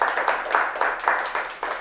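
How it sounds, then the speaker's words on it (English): A small audience gives a guest a round of applause, dense continuous clapping with a slightly pulsing texture, moderately loud and close throughout. "please, can we give a round of applause"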